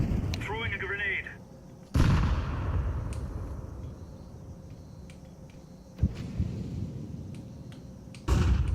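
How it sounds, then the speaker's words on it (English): A grenade is thrown and bursts in a military shooter game: a sharp, loud blast hits near the two-second mark, followed by rumbling tail and further heavy booms later amid continuous battle noise. "Throwing a grenade."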